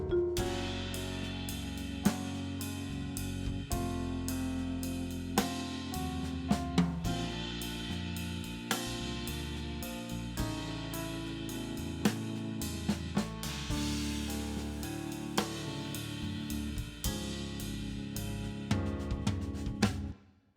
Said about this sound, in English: We've got organ playing now, piano still here, the bass and drums.